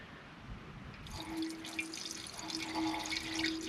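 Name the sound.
pouring coolant gel and water into cooling system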